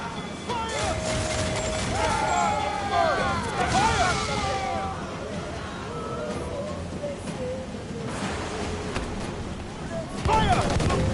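Heavy ship cannons boom in a sea battle in Assassin's Creed Black Flag, deep repeated blasts and crackling volleys rumbling under shouted commands from the crew amid constant ocean and wind noise.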